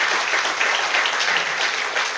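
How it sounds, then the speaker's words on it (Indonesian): An audience claps steadily during a church sermon, a dense even patter of many hands filling the short stretch without anyone speaking. "Jangan tepuk dulu, karena itu belum akhir cerita."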